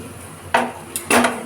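A spoon clatters against a pan while stirring a potato and onion fry, two sharp metallic scrapes close by over a faint background hum.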